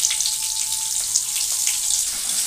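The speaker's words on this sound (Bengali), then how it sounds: "পেঁয়াজটা ভাজা হচ্ছে" Chopped onions fry in a pan with a steady, bright hiss and sizzle that stays even and close throughout, with a few faint crackles and no talking.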